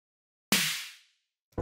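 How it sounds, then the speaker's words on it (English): Splashy snare drum sample in a music production: a single bright, noisy hit with a soft decay that fades out within about half a second, heard alone and close. "I have a splashy snare and a smashy snare."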